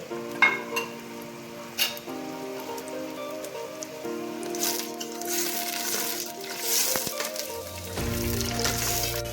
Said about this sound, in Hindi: प्याज ऐड करूंगी, सुनहरी ब्राउन करूंगी